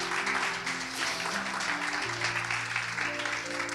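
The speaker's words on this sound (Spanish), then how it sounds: "¿Cuánto le da un aplauso al Señor?" Congregation clapping in a church service, a steady wash of applause heard from some distance, with sustained organ or keyboard chords held underneath.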